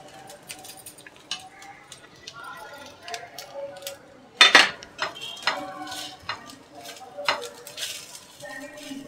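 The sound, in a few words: sesame and dry coconut roasting and stirred in pan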